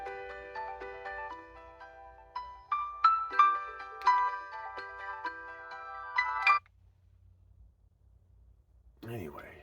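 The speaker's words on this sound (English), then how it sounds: "my phone's going bonkers" A mobile phone rings with an incoming call, a melodic ringtone of bright repeating notes playing for several seconds before cutting off, followed by a voice speaking.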